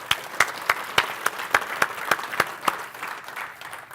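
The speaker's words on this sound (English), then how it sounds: "Give them a round of applause for putting everything all together here" Audience at an agricultural Planting for Profit meeting clapping in a steady, evenly spaced rhythm, crisp individual claps that hold a regular beat before softening toward the end.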